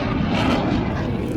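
A single-engine Lockheed Martin F-35 Lightning II fighter jet flying overhead, a loud, broad continuous roar filling the whole short stretch without a break.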